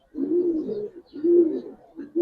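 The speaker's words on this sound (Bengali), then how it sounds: "সম্পূর্ণ পাঙ্কি একটা কবুতর, সিলভার পাঙ্কি কবুতর ভাই।" Silver panki pigeon cooing nearby, three soft, throaty coos in a row with short pauses between, alone without talk.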